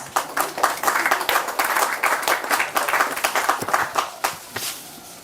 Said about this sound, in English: I believe that needs a round of applause from us